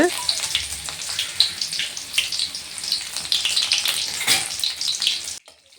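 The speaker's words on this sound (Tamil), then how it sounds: "வடச்சட்டியில் கடுகு உளுந்து பருப்பு போட்டு தாளிச்சாச்சுங்க" Steady crackling sizzle of mustard seeds and lentils frying in hot oil, dense and close, cutting off abruptly near the end.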